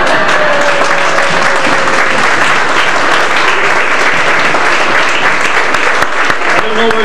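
An audience at a 1997 gospel sing-along applauds and cheers with sustained, dense clapping from a near crowd, with voices mixed in and a brief tone early on.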